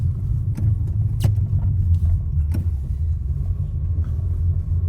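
Car driving through Chinatown, heard from inside as a steady, fairly loud low rumble of engine and road noise with a few sharp clicks or bumps, no talking.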